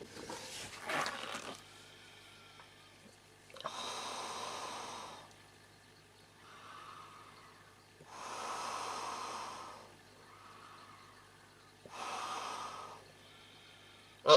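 Slow, deep breaths drawn and pushed through a Polish FP203 respirator filter, a muffled hiss repeating about every four seconds, close and fairly quiet.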